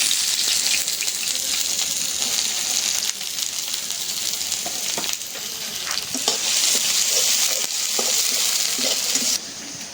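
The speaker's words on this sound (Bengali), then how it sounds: "এখন আমি পিয়ালি মাছ রান্না করার জন্য কড়াইতে তেল দিয়ে দিলাম, সরিষার তেল" Onions frying in mustard oil in a wok, a steady loud sizzle with crackling throughout, briefly dipping near the end.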